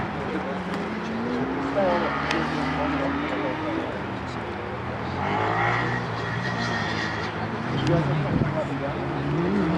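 A Formula SAE race car passes during an enduro event, its engine rising and fading at a distance under an announcer's commentary and crowd background.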